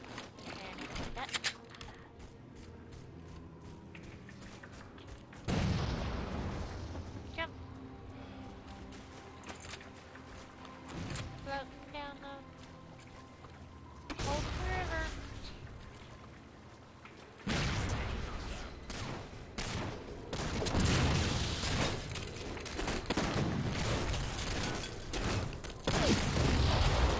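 Battle rifle fire rings out during a Halo Spartan Ops mission. Bursts of gunfire and booming explosions come in clusters amid battle noise, with in-game chatter and voices talking over parts of the action.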